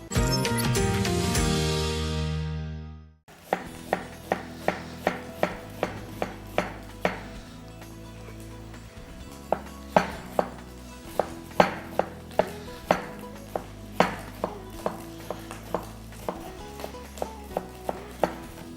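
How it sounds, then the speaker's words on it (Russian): Rapid rhythmic knife strikes chop vegetables on a wooden cutting board, dozens of crisp close taps after a brief opening tone, steady and slightly uneven in pace. "Я специально возьму другую доску для нарезки овощей."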